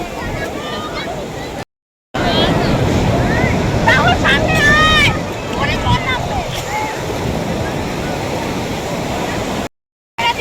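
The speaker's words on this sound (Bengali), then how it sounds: "এই দেখো এত ঢেউ দিচ্ছে" Sea waves rolling onto Puri beach make a loud, continuous roar, heavily buffeted by wind against the microphone, with voices faintly mixed in and two brief cut-outs.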